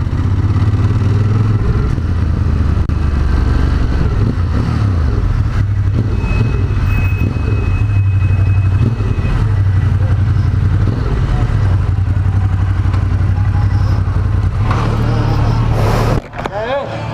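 A Ducati Monster 1200 S motorcycle engine drones loud and close through a test ride, a steady low hum that rises and shifts with the throttle, with wind buffeting and a clatter near the end.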